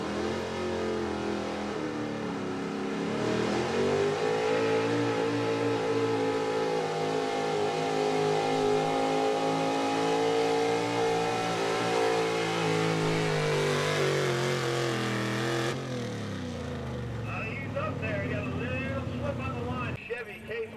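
A 1970 Chevy pulling truck at a truck and tractor pull roars loud and sustained as the engine revs and climbs under load, then drops off sharply near the end, with an announcer talking over it.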